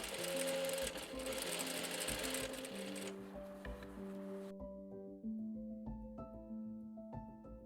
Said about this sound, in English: I turn the ruffle to the right side and top stitch the lining close to the edge.